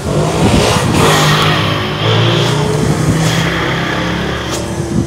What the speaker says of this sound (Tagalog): At busy rin ang mga tricycle dito, napakaingay.